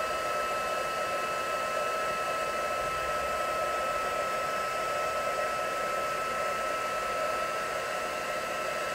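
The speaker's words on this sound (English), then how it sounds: "we're going to turn our heat gun on, and then we're going to heat this up" A heat gun blows steadily for the whole stretch, melting embossing powder on a Stampin' Up! card, making a loud, even hairdryer-like whoosh with a constant motor whine and no voices.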